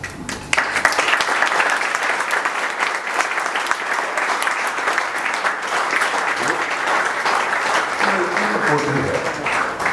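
An audience claps loudly and steadily at a film festival interactive session, with dense applause running for nearly ten seconds, and a voice rising briefly over it near the end.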